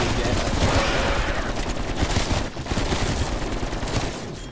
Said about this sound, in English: what you do is you spam headshots on Orda